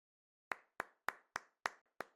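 One person claps six times, slow and evenly spaced, each clap sharp and close against otherwise silent surroundings.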